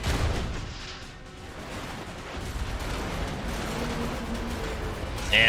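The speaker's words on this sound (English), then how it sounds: "And they are bombing him." Bombing explosions rumble continuously in the video game Final Fantasy X, a dense, low, roaring barrage of blasts layered over one another with a brief brighter burst at the end.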